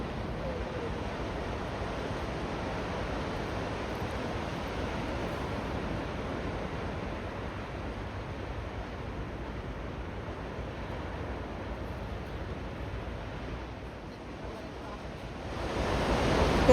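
Sea surf rolls onto the beach at Saint Martin's Island around sunset, a continuous, fairly loud wash of breaking waves with some wind against the microphone, swelling near the end.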